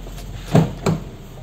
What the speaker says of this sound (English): Let's try to open the door.